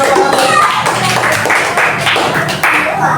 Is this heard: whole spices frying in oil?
no